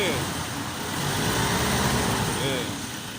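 A Mazda BT-50 diesel pickup runs during a fuel filter change. A loud, close, broadband engine clatter and roar fills the whole stretch, swelling slightly as the engine is revved.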